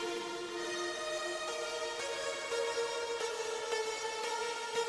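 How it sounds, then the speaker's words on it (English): A gentle, sustained run of notes rolls up and down in a steady arpeggio pattern, with soft tones that blend into a continuous shimmer. "I came up with like a little arpeggio"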